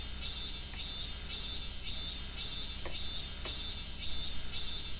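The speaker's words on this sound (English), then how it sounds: "And those cicadas sure are making the same noise." Steady, continuous cicada buzzing in the PS2 game Disaster Report, a high droning chorus with a few faint chirps over it and no talking.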